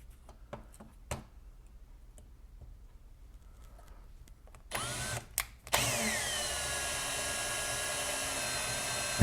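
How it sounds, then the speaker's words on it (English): Power drill boring a hole during a tube amplifier build, starting with a few brief clicks and bursts, then spinning up to a steady, loud, sustained whine that runs several seconds, close and alone without talk. "And drill the next hole."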